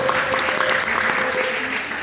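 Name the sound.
audience applause in a classroom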